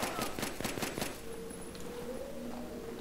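Rapid burst of automatic gunfire in Battlefield 3, a dozen sharp shots in quick rhythm over the first second, then fading into a quieter tonal hum with game ambience.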